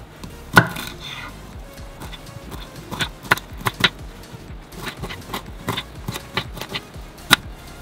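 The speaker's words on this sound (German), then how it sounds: "Jetzt können wir die Röschen in mundgerechte Stücke schneiden." A kitchen knife cuts broccoli florets into bite-sized pieces on a cutting board, giving irregular sharp chops and taps, some louder, spread over several seconds with quiet gaps and no talk.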